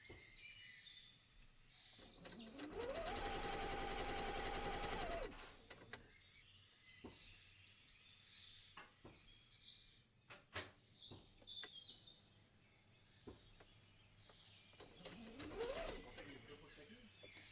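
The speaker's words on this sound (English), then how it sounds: "And I'm sewing the right sides together." A sewing machine stitching the right sides of fabric together runs in a loud, steady whirring burst of about three seconds and briefly starts again near the end, with faint bird chirps and a voice in the room.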